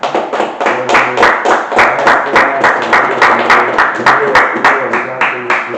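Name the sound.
audience applause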